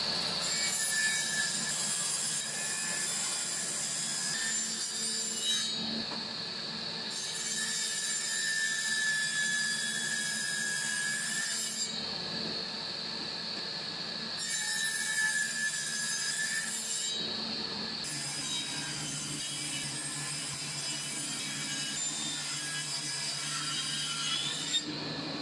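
A circular saw runs steadily as it cuts a rabbet along wooden bars, with a loud sustained whine and grinding that rise and ease in several passes as the blade bites and frees; no talk.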